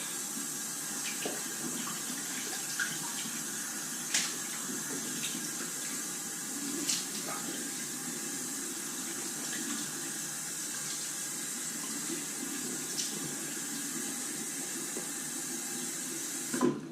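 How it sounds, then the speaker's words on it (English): Steady running cold tap water streams for the whole stretch for a rinse after a straight razor shave, with a few small clinks and splashes from a sink now and then. "Now it's for the cold water rinse."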